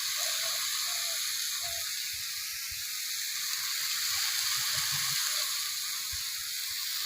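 Garlic and onion fry in oil in a pan, a quiet, steady bright sizzle with faint low knocks underneath and no voices.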